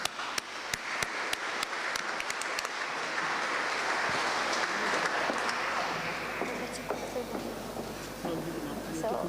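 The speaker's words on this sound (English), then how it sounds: "Can we have a round of applause?" Audience applause fills a town hall during a diversity awards ceremony in Rochdale, a sustained dense clapping that swells and holds for about nine seconds, with a few sharper claps standing out near the start.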